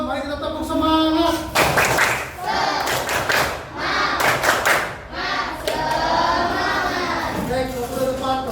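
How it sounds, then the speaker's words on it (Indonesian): A class of children does a rhythmic spirit clap in a classroom, loud patterned bursts of hand claps and thumps alternating with chanted voices. "mari kita tepuk semangat"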